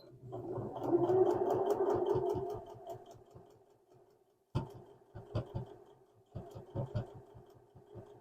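A sewing machine stitches through heavy lounge-pant fabric, first a steady whirring run of about three seconds, then a pause and several short bursts of stitching, close and moderately loud with no talking.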